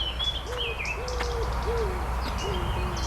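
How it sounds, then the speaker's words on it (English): A wood pigeon coos in a repeated soft, hooting rhythm, several low calls in a row, with birdsong twittering in the background. "There's the pigeon over there, wood pigeon."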